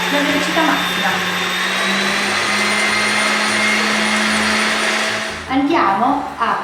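Electric mixer beating eggs for savory muffins, a loud steady motor whine with a rising pitch as the speed climbs to maximum, then a brief dip and rattling restart near the end.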